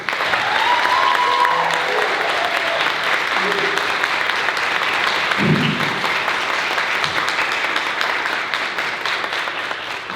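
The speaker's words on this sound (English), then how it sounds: "I would like you to make a very loud round of applause for our keynote speaker, Todd Irving." Education conference audience gives a long, loud round of applause for the keynote speaker, steady dense clapping throughout with a few brief voices and a short thump partway through.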